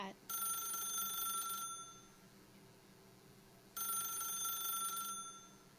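A phone rings in The Stanley Parable, two bright electronic ringing bursts with a pause between them, clear and steady against a quiet room hum.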